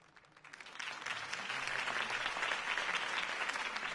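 Crowd applause for Harvey Dent's campaign speech in Batman: The Telltale Series rises from quiet into dense, sustained clapping from a large gathering, heard at a distance.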